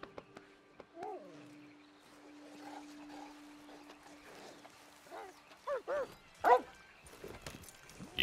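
A dog in Red Dead Redemption 2 Online, a few short whimpers and yips, quiet and close, then several louder barks near the end over faint ambient game sounds.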